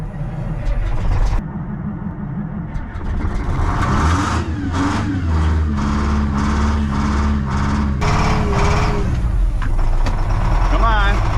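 A Ford 7.3 Powerstroke diesel at -42F is cranked in a cold start attempt, a loud labored grinding and chugging that struggles without catching, with people talking over it.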